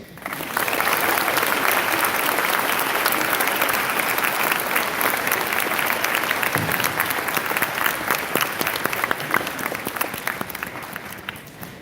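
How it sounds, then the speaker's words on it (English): Sustained, loud applause from a large crowd at a school Veterans Day assembly, many hands clapping steadily for several seconds before tapering off. "Let's all give him one more round of applause."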